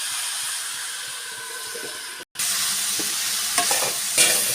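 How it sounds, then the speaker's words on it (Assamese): Meat fries in oil in a covered pan on an Assamese home stove, giving a steady, close sizzling hiss with a brief break partway and faint stirring clinks near the end. "মাংসখিনিত তেল এৰিবলৈ দিছোঁ"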